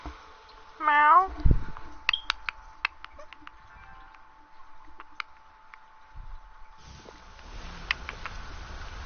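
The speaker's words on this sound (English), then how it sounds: "Meow." Video game cat in Skyrim gives a single clear rising-falling meow near the start, followed by sparse clicks and taps over a quiet background with a low hum.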